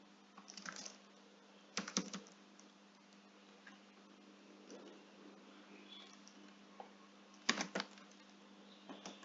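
Keystrokes on a computer keyboard as an email address is entered, two quick bursts of close clicking separated by a quiet, faintly humming stretch, with a few scattered taps in between.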